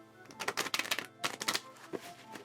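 Rapid riffling bursts of tarot cards being shuffled, two main flurries of fast crisp flutters followed by a few lighter taps, close by.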